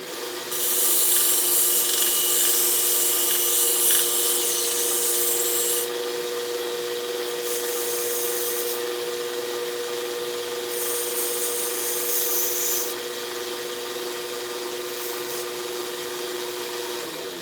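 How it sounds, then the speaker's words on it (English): A belt sander rounds off the edge of a spoon being shaped into a pendant, giving a steady motor whine with loud hissing rasps each time the piece is pressed against the belt. "what I'm going to use the belt sander for is I'm just going to round this off so that it'll make a nice pendant shape"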